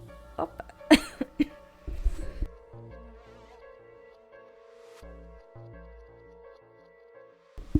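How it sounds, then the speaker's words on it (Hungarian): Several sharp coughs burst out close and loud in quick succession in an otherwise quiet room, followed by faint ticks and soft thuds. "csak köhögtem"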